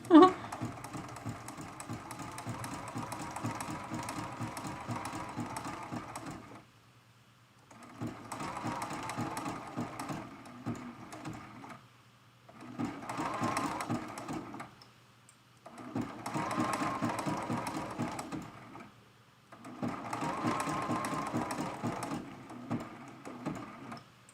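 A sewing machine stitches a quilted mug rug with appliqué in five steady, rapid bursts separated by brief pauses, close and clear with no talking.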